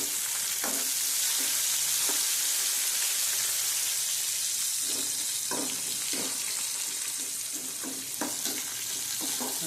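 Chopped tomatoes go into a pan of frying onions for a Gujarati potato curry, with a loud steady sizzle throughout and light scraping stirs at intervals, and no talk.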